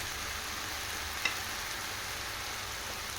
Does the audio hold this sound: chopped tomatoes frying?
yes